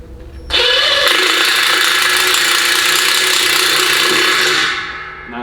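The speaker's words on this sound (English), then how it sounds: "we broke through with the drill bit" A power drill whines steadily at high pitch as the bit grinds through steel with cutting fluid, a continuous loud cutting drone lasting several seconds before winding down.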